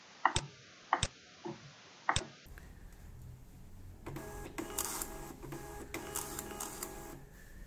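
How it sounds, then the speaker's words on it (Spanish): A barcode label printer runs through a few sharp clicks and clacks, then settles into a continuous whirring, rattling printing run with rhythmic mechanical pulses, close and fairly clear. "Lo generamos. Vamos a ver, a imprimirlo."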